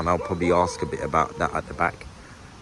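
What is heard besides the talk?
No everyday noises stand out.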